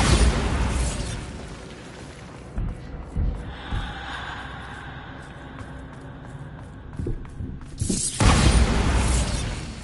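Bombarda spell blasts in Hogwarts Legacy, a few thudding explosive bursts with crackling debris, moderately loud, the heaviest burst coming near the end.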